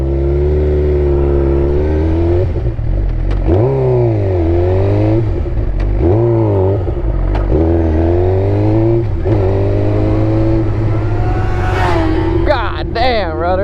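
A 750cc sport bike engine revs up and down in repeated rising and falling sweeps, loud and close, with excited speech over it.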